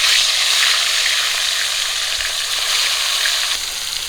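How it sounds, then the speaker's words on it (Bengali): Pieces of fish rubbed with salt and turmeric frying in hot oil, a steady, close, loud hiss and crackle that continues without pause and with no voices. "তেল গরম হয়ে গেছে, মাছ দিয়ে দেবো।"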